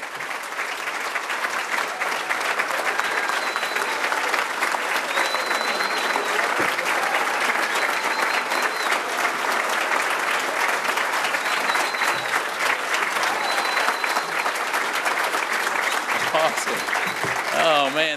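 Dense, loud crowd applause and cheering for Governor Rick Perry at a New Hampshire campaign event, continuous clapping with scattered whistles and shouts that holds steady throughout.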